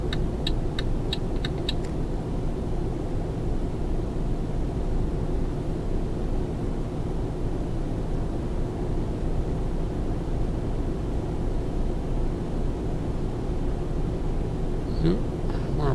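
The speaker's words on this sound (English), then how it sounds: "Yep, a proper lorry drag race." Lorries drag race in a video game, and a steady, loud engine drone holds throughout with a constant low rumble and no clear breaks.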